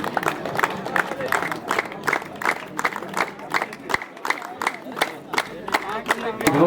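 Spectators at a final kabaddi match of a local premier league in Kota, Bilaspur, clap in a loud, steady rhythmic beat with some cheering, while an announcer talks over them.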